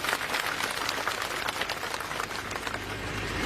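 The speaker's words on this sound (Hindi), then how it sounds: "एक बार ताली भी जानी चाहिए सबको" Audience applause at a political rally for Chief Minister Jai Ram Thakur: a dense, steady wash of many hands clapping, loud and continuous from start to finish with no break.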